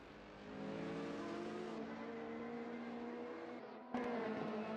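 GTCC race cars lapping the Majura Valley circuit in a racing video game, a sustained high engine drone that holds steady, then a sudden jump to a louder, harsher engine note near the end.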